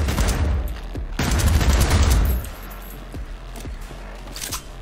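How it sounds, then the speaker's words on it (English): Automatic gunfire from a silenced weapon in the video game Cyberpunk 2077, a loud dense burst in the first half that thins to a few scattered sharp shots, with no talk. "why did my gun just automatically fire?"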